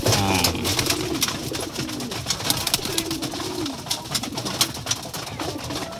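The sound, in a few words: pigeons cooing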